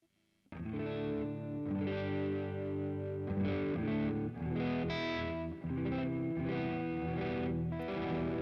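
Electric guitar through a Boss Katana MK2 amp with a modulation effect, a run of strummed chords with a wavering, shimmering tone, played steadily and close with brief gaps between strums.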